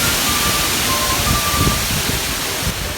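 Steady, loud wind rushing with broadband noise throughout, gusting slightly, with no voices.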